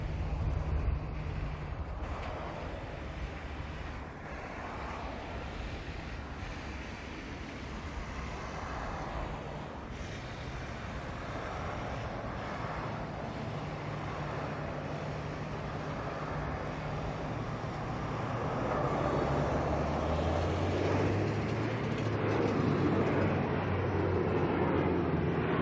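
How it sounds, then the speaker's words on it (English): An ATR turboprop airliner departs Auckland Airport for Napier with a steady, broad engine roar that builds toward the end. It sounds at a moderate distance, with no talking over it. "Got an ATR making its way out to Napier. We'll get that departing for a little bit"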